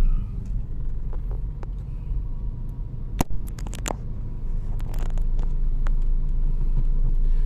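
Night traffic on a city street in Bonifacio Global City, Taguig, passes by as a low continuous rumble of cars and buses with a few sharp clicks and knocks near the middle.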